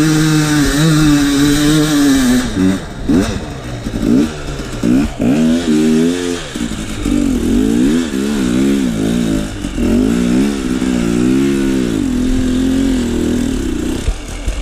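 A dirt bike engine climbs a rough trail in first gear, revving hard in repeated surges and drops, loud and close, with no talk.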